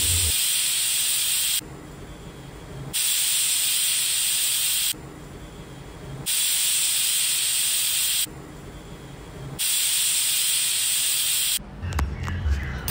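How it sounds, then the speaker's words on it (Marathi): A pressure cooker cooking black chana whistles again and again, each loud steady hissing blast lasting a second or two with short quieter gaps between, ending in softer clatter. "कुकरच्या 4 ते 5 शिट्ट्या काढून घ्यायच्या आहेत"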